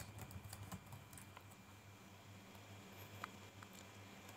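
Someone types on a computer keyboard, a faint, rapid patter of light key clicks continuing throughout against a low hum, with one sharper tap near the end.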